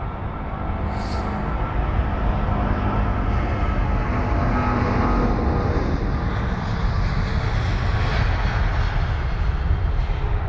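A British Airways Boeing 777-200 jet takes off at London Heathrow, a loud continuous engine roar that holds steady and broad for about ten seconds, heard from a distance without talk.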